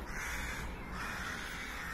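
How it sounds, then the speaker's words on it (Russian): Crows caw from tall pines near an English church, harsh calls carrying through a faint, airy outdoor background with no one speaking. "Вы послушайте, как орут здесь вороны."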